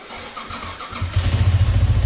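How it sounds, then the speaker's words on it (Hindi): Motorcycle with a weak battery cold-started in the morning: a short starter crank leads into the engine catching and settling into a loud, close, lumpy idle. "बाकी भाई बाइक को करते कोल्ड स्टार्ट"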